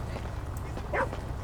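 A dog on a walk lets out a single short bark or yip, brief and partly masked by steady low road and wind rumble outdoors.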